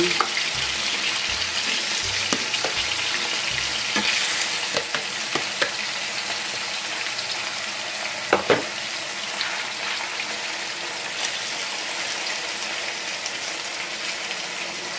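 Skinless boneless chicken breast fries in a pan with a constant crackling sizzle, close and steady, occasional pops and a few scraping or tapping sounds from handling, no voices.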